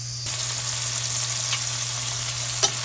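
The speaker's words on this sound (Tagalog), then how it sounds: "after natin igisa yung sibuyas bawang, ay nilagay na natin yung paminta at ang kamatis" Onion, garlic, pepper and tomato sauté in a pan with a steady, close sizzle that starts abruptly and continues evenly, with a faint clink near the end.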